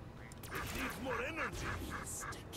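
Players in a World War I flight game imitate duck quacks with their voices, a run of nasal, rising-and-falling calls repeated several times close to the mic over background game noise.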